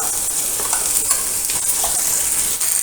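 Ground masala paste for a white peas kurma frying in a pan with tomatoes while being stirred: loud, continuous sizzling with scraping stir strokes throughout, close and without talk.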